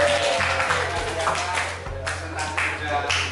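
Classroom audience applauding at the close of a student presentation, a steady mass of clapping from many hands filling the room at moderate loudness, with a low hum underneath.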